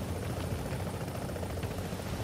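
Steady, continuous rotor and engine drone of a helicopter in the video game The Division, a dense low rumble that holds constant throughout without talking.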